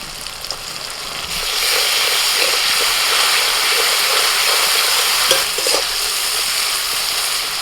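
Chopped onion, salt, turmeric powder, dried red chilli and green chilli fry together in a pan, giving a loud, steady close-up sizzle and hiss that swells after the first second and holds with light stirring scrapes.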